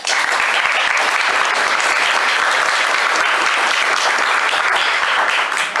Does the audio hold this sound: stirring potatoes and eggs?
no